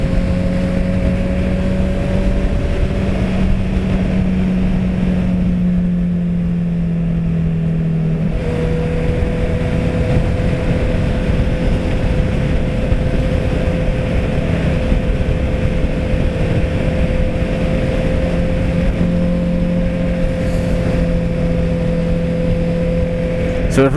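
A sports motorcycle rides along a country road, its engine holding a steady, loud drone with a slight pitch change partway through, constant throughout.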